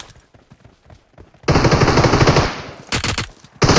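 Loud automatic gunfire from the PUBG Mobile battle royale game on the Miramar desert map bursts out in a long sustained volley, breaks off, then returns in short rapid bursts, with faint talk beforehand.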